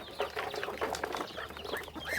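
Chickens and ducks on a farm in the morning make busy clucking and quacking calls, several birds close by overlapping in a lively chatter.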